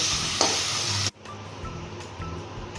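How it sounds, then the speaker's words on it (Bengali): Ground cumin, coriander and chili powder with garlic paste fry in a pan for a jackfruit and potato curry, giving a loud, close, steady sizzle that cuts off abruptly after about a second, followed by quieter scraping and stirring. "জিরার গুঁড়ো, ধনের গুঁড়ো, লঙ্কার গুঁড়ো দিয়ে ভেজে নেব।"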